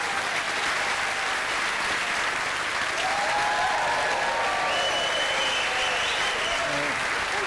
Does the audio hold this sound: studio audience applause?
yes